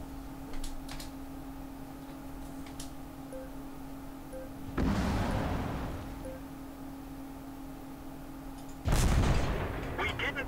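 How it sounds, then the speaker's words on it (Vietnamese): Artillery fire in a video game battle booms twice, spaced several seconds apart, each blast heavy and decaying over about a second, over a steady background hum with faint ticking clicks. "nó dùng pháo tiếp kìa"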